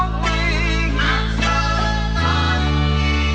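A deep bass line following a pitched-up sample in a beat, with a couple of accent notes shifting pitch, heavy and sustained beneath the bright looping sample, no voices.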